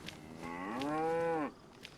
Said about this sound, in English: Hello, cow.